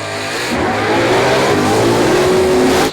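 A 1000hp Holden LH Torana drag car engine revs hard and loud up close, one sustained rising roar that fills the whole stretch, then cuts off abruptly at the end.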